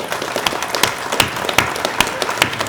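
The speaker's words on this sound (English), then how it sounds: "actually a round of applause, if you can, to Chief Brad Giroux" Applause from an audience at a police chief announcement event, honoring an interim chief; a moderate crowd clapping steadily with sharper individual claps standing out, continuous throughout.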